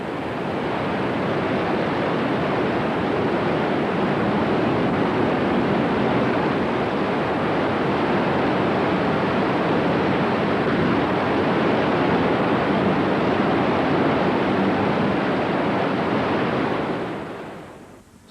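White water rapids on the Congo River roar as a loud, steady wash of rushing water during a 1975 expedition, unbroken for most of the stretch before fading out at the end.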